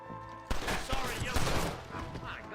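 Gunfire in the video game Red Dead Redemption: a sudden loud burst of shots erupts after a brief quiet start, then rapid overlapping reports continue to the end.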